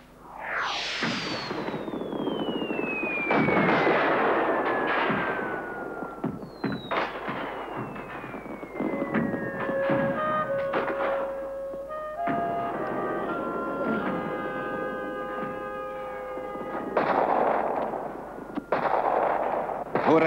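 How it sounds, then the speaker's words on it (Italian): Cannons fire in a dramatized battle scene, heavy booming blasts repeating across the stretch, mixed with whistling, descending shell-like tones and crackling bursts, loud and continuous with no pause. "Faccia tuonare i cannoni."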